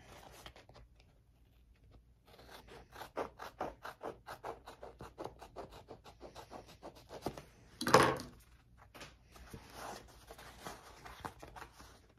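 Scissors snip through fabric seam allowance in a quiet sewing room, a steady run of small close crisp cuts with one louder rustle of cloth midway, no talking.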